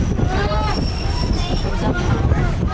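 A South Simcoe Railway diesel excursion train rolls through the Tottenham countryside past a ravine, its steady loud rumble joined by squealing wheels and faint rail clatter with no pause.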